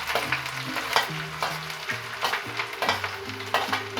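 Garlic fries in hot oil for besan kadhi, giving a steady crackling sizzle. A soft, rhythmic stirring sound and low tonal scraping run through it, with no voices.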